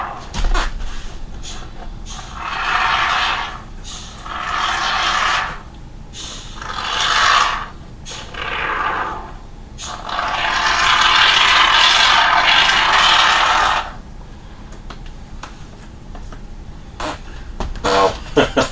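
A blade rasps and saws through cured spray foam packed under a plastic sheet, arriving in several long scraping bursts separated by short pauses, with a sustained stretch in the middle and rustling handling noise toward the end.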